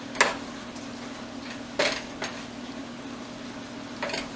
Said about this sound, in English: Now I'm gonna stir this for a little bit.